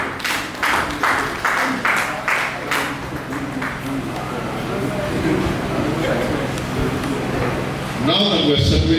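An audience at a summit session applauds in a burst of scattered clapping over the first few seconds, then it thins out under ongoing room noise and talk.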